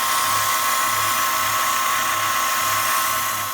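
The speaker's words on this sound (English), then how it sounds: "I've finished now with the skews and other lathe tools, so I'm going to move on to sanding. This is a 180 grit" Wooden chopstick being sanded with 180 grit sandpaper while spinning on a wood and metal lathe: a steady, loud whirring hiss with a constant high whine and a faint pulsing low hum, continuous throughout with no talk.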